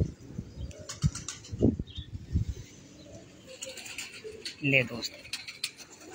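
Racing pigeons of a champion breeder cooing and flapping their wings in a loft, bursts of wingbeats and soft coos close by, with someone talking intermittently.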